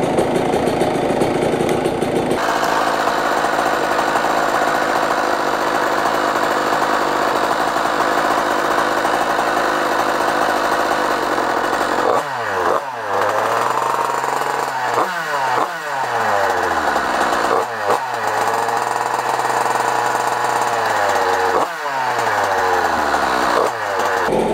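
A 125 motorcycle engine idles steadily while warming up, a close, continuous buzzing putter. Later it revs up and down in several throttle blips.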